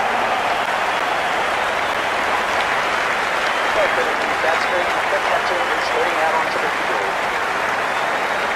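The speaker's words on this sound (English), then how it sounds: "The crowd are loving this." A big cricket stadium crowd in Dubai roars without a break, a dense wash of cheering and applause that holds steady all the way through, with no clear voice on top of it.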